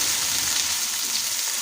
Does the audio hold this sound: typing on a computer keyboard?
no